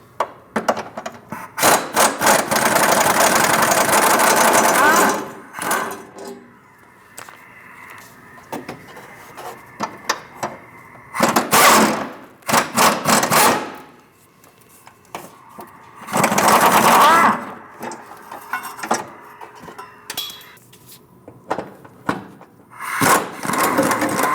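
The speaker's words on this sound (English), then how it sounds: "Using a 13mm socket, we're going to remove all 4 bolts for the tank straps." A ratchet with a 13mm socket spins out the fuel tank strap bolts on a 2016–2025 Chevrolet Malibu 1.5L, with long loud whirring clicks broken by pauses, shorter clicking bursts and clanks of metal.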